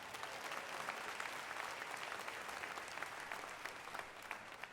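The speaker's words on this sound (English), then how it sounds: "Let's give them all another round of applause." Crowd at a music walk of fame induction ceremony giving a round of applause, a sustained dense roar of clapping heard from a distance at low level, steady for several seconds.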